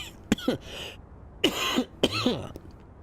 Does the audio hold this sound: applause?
no